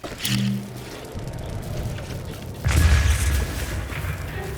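Two deep booming explosions in The Legend of Zelda: Breath of the Wild, one near the start and a heavier one midway, followed by a lingering low rumble.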